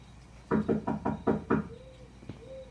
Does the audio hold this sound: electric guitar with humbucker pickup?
no